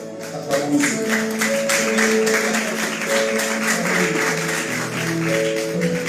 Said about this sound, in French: c'est vos applaudissements